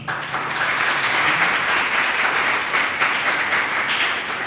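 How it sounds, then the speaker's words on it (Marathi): Young people in a church congregation clap loudly and continuously for themselves during a sermon, their applause dense and sustained throughout. "माझी अशी इच्छा आहे की तरुणांनी स्वतःसाठी टाळ्या वाजवाव्यात वाजवा तरुणांनी"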